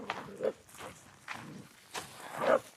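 Cattle on a farm being chased off by a woman, with scattered hooves and shuffling movement in a few bursts nearby, loosely rhythmic and fairly faint.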